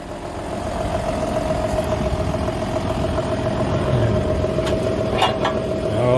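Tractor engine idling outdoors during winter repair work, a steady, even drone that holds at a constant level throughout, with faint clanks over it toward the end and no talk.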